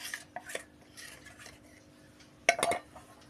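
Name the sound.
mixing chilli powder, coriander, garam masala with beef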